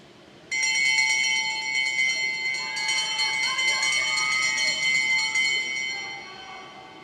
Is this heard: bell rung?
yes